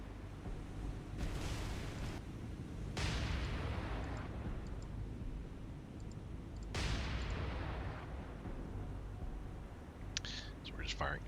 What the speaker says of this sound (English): So we're just firing HE now because that's all we have available on the Houston